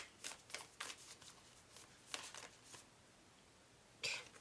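Tarot cards being shuffled in a series of quick, soft riffling bursts, several close together, then a pause and one more near the end, quiet and close with no talking.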